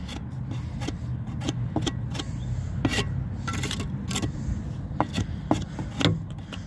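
An old brick trowel scrapes and rasps against the wood of a chicken coop being repaired, with a rapid series of close, gritty strokes and clicks running steadily over several seconds, with no talking.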